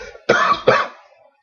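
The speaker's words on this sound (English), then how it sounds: "And I still have a cough from the cold I had." A person with a lingering cold coughs twice in quick succession, two harsh, close bursts followed by a brief fading breath.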